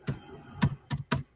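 Computer keyboard typing in four quick separate bursts of keystrokes, close and fairly quiet, with no talk over them.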